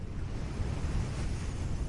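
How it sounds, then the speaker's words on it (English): Ocean waves near a cliff at sunset, a steady, close wash of surf and wind rumble with no talking over it. "The ocean does sound relaxing."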